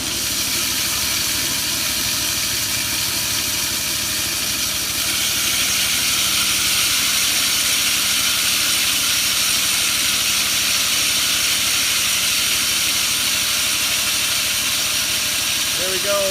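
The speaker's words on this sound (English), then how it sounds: "we can't really hear the noise of the grip between the reel and the bed knife anymore" A reel mower being backlapped runs continuously, its reel grinding against the bed knife as a steady, loud, hissing mechanical whir with an even drone that never lets up.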